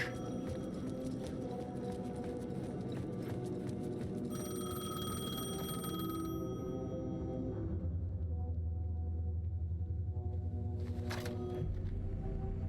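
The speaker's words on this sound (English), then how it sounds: "The payphone was ringing." A payphone in Alan Wake 2 rings in repeated bright metallic bell bursts over a dense in-game ambience, which thins out partway through and is followed by a last short ring.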